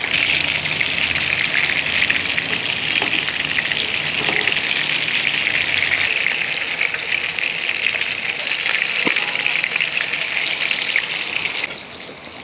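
Fish frying in a pan gives a steady, loud sizzle with dense crackling throughout, broken by a few sharp spatters and a brief drop in level near the end.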